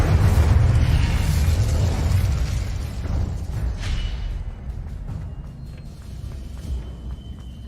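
Incendio fire spell cast in Hogwarts Legacy, a loud rushing roar of flame with a deep rumbling low end, sustained for several seconds and slowly fading.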